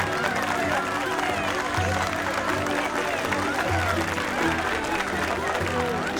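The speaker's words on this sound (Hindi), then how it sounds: "तालियां बजाओ इनके लिए।" A village crowd claps steadily for several seconds, a dense, continuous wash of applause mixed with murmuring voices.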